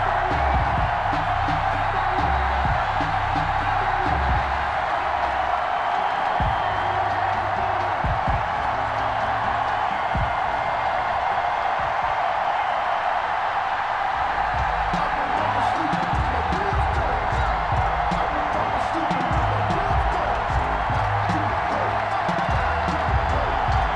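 Sold-out stadium crowd cheering in Foxborough for a Madden NFL simulation of a 2021 Patriots versus Dolphins game: a steady, loud roar of many voices with whoops and scattered clapping throughout, without letting up.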